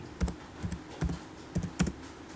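Fingers type on a computer keyboard in short, quiet bursts of a few clicks each, separated by brief pauses, with no talking.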